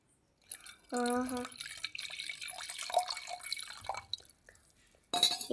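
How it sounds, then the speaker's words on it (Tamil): Water runs and splashes from a tap or pour for a few seconds, with dripping and a clink of glass, fairly close. "தண்ணி பத்தலான்னு ஊற்றுனேன்"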